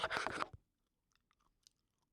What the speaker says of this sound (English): if you don't like mouth noises, that was probably terrible